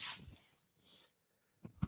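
A single quick sneeze sounds near the start, followed by a faint breathy hiss and a couple of soft thumps.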